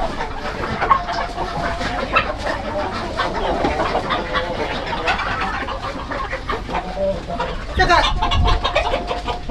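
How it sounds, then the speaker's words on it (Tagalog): Chickens cluck and squawk repeatedly in a busy outdoor setting, mixed with people talking in Chinese and Tagalog and scattered household clatter. "Daming manok."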